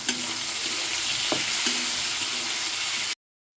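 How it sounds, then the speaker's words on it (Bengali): Chopped tomatoes fry in a pan with onions already browned in spiced oil, giving a loud, steady sizzle with a few soft knocks from a spoon, then an abrupt stop. "এখন দিয়ে দেবো যে কাটা টমাটো।"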